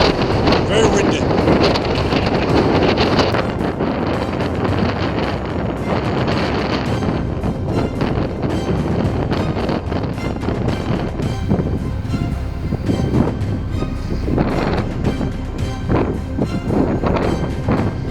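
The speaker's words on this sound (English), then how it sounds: "It's so windy up here." Strong wind buffets the microphone on a high, exposed spot, a loud, continuous roaring rumble with gusty surges that never lets up, and someone talks faintly beneath it.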